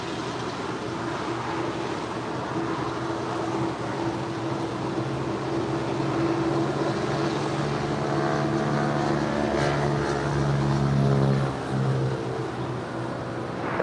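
A United airliner lands on runway 25 left at Los Angeles International Airport, its steady engine roar and whine holding loud and continuous for about fourteen seconds, swelling slightly toward the end with harmonic tones rising and falling.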